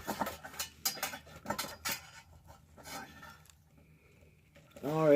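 A part of a bird feeder is tightened by hand, giving a run of quick close clicks and light scraping, with a person talking over it and a brief louder squeak at the end.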